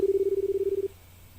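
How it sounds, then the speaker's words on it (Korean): A video game payphone dialing out: a single steady, rapidly pulsing tone for just under a second, then it cuts off and leaves quiet line hiss. "에비아라의 과거한테 전화를 건다"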